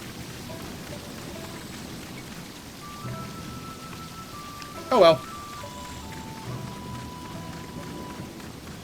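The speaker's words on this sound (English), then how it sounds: "but it's raining" Steady rain falls in the video game Sakuna of Rice and Ruin, a constant soft hiss throughout with a brief louder crack midway, while a person speaks briefly over it.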